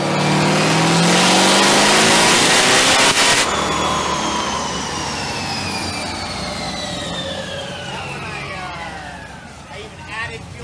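A Corvette engine roars at high revs on a dyno run, loud and sustained, then the pitch sweeps steadily downward as it winds down over several seconds and fades toward idle.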